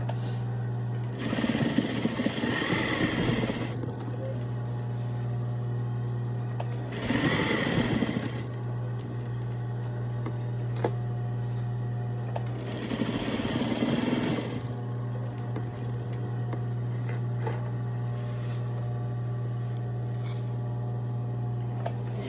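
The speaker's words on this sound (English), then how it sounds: "Sewing some denim patches on this cardigan." A sewing machine stitches denim patches onto a cardigan in three separate runs of rapid, whirring stitching, each a few seconds long, with quiet pauses and a steady background hum between them.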